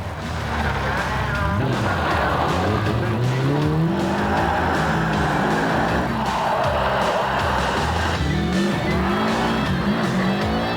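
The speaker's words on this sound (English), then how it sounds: "New Zealander Possum Bourne to unleash the full power of his Subaru Liberty Turbo" Subaru Liberty Turbo rally car racing at a round of the Australian Rally Championships near Adelaide, engine revving and shifting through gears with tyre squeal and skidding, loud and close throughout.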